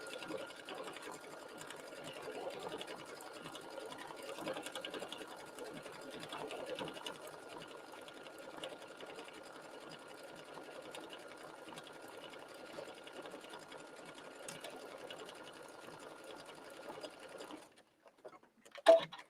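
A sewing machine stitches fabric for a sweater refashion, a faint steady mechanical whir running continuously before stopping near the end with a few handling knocks.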